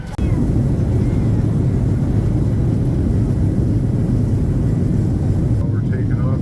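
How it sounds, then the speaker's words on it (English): A commercial airliner departing Puerto Vallarta rolls into its takeoff, heard from inside the cabin as a loud, constant engine roar that starts abruptly and stays steady throughout. "We're taking off now."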